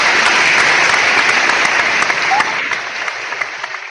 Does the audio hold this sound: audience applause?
yes